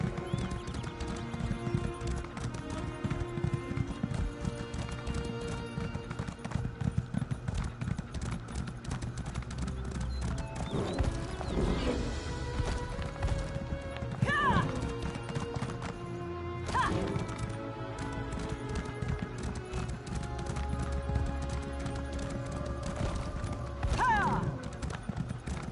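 A horse in Elder Scrolls Online gallops at speed, its rapid hoofbeats drumming steadily throughout, with occasional whinnies and a player's voice talking over the game sounds.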